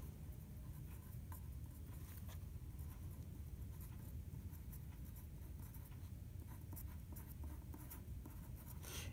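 Pen scratching steadily on paper during a chemistry lesson, a quiet, close, continuous scribble with faint taps and no talk.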